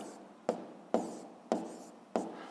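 Pen or chalk writing out a physics equation, four sharp separate strokes tapping and scratching at even intervals, close and alone with no voices.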